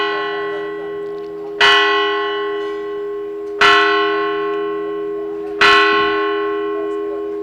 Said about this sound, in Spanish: Ahora sí tenemos la campana. Ahora la campana.